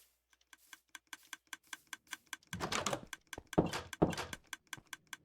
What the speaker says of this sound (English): there's clicking from the farms